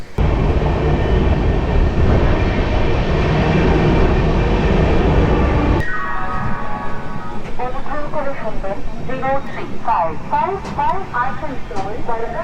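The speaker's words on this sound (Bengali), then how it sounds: "আমাদের ট্রেন দুর্গাপুর থেকে ছেড়ে দিল" Howrah–Patna Jan Shatabdi Express (12023) pulling out of Durgapur station, a loud steady rumble of wheels and carriage noise that drops abruptly midway, followed by nearer voices talking over a lighter running hum.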